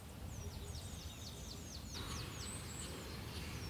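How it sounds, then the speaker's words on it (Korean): A black woodpecker calls in Gwangneung forest, a quick series of repeated high, ringing notes heard at a distance and rather faint against a soft, hissing forest background. "큰악새를 닮은 까막 딱따구리."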